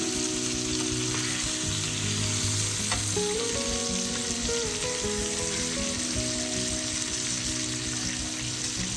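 Pomfret fish fries in a pan after being flipped, giving a steady, loud, continuous sizzle and crackle that runs throughout without any talk.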